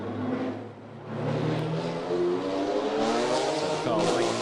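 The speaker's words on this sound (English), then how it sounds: "So the cars making their way up through Moorish and Police, and Han Li Chao in the Toyota." GT4 race cars in the 2024 Macau Grand Prix Greater Bay Area GT Cup, a Toyota among them, climb through the Moorish and Police corners with a steady, loud engine roar under continuous commentary.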